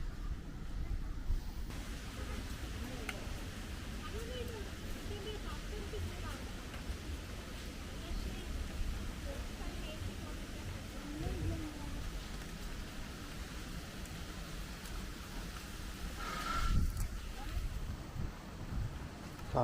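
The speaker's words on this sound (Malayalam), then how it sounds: "കാറ്റുണ്ട്." Wind blows outdoors on a drizzly, rainy day as a continuous low rumble and buffeting on the microphone, with muffled voices faintly underneath.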